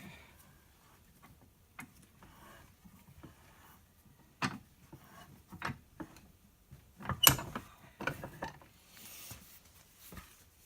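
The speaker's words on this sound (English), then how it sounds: "Spin your vise out. Go ahead. Press it back in." A vise presses a track bar bushing back into a Ford Dana 60 track bar, giving scattered clicks, creaks and mechanical knocks. They are close, uneven and moderately loud, with no talk.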